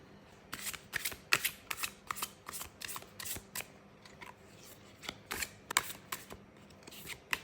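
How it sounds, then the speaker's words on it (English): A new deck of tarot cards shuffled repeatedly up close, crisp riffling bursts in a quick, irregular rhythm with short gaps. "But let me just shuffle a bit."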